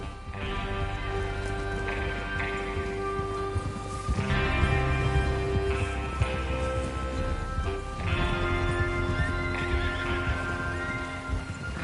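Horses whinny and neigh in the Red Dead Redemption 2 game, with several loud calls repeating at intervals over a constant bed of rain and background game sound, hooves faintly clopping underneath.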